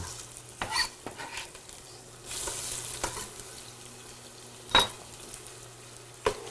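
Onions going into a hot pan for an Italian dish, a low sizzle under intermittent stirring, with a few sharp utensil knocks and scrapes against the pan.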